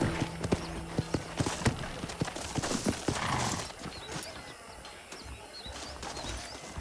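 Horse hooves clip-clop in the video game Red Dead Redemption, a steady run of hoofbeats slowing and fading, with birdsong chirping faintly around it.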